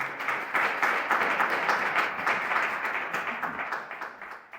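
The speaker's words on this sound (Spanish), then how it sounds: "Un aplauso, María." Audience applause welcoming a guest named María to a talk about Erasmus, a steady, dense burst of clapping from a crowd lasting several seconds, loud and continuous without speech.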